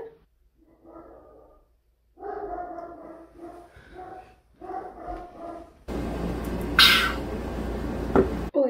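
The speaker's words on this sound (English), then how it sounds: "my dog will start barking so freaking loud" A dog barks and yips in short bursts at a moderate distance, with pauses between, followed by a louder rustling noise near the end.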